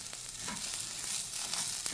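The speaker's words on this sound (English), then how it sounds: "Browning the rice takes a little bit, so I will stir it." Rice browning in a pan for Mexican rice sizzles in a steady, close, even hiss with no pauses.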